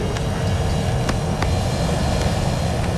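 Airplane engine noise fills the cabin as a loud, constant roar with steady rumble and hiss and a few faint clicks, continuous throughout with no talking.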